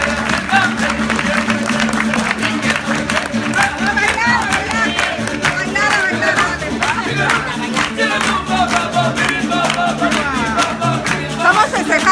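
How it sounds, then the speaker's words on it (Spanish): A festive crowd claps and cheers steadily for the Mariachi Zorra de Pedro Miranda at a Mother's Day celebration in Lomas de Sotelo, loud and close, with shouting voices mixed into the continuous applause throughout. "Fuerte el aplauso para Mariachi Zorra de Pedro Miranda"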